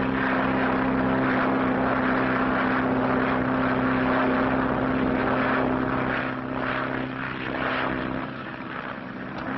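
Propeller airplane droning in flight over the Atlantic, heard from inside the cabin: a loud, continuous engine hum with a strong steady tone that eases slightly toward the end.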